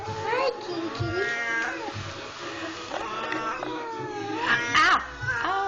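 A cat meows repeatedly in rising, whiny cries that are close and fairly loud, mixed with a person's soft coaxing voice.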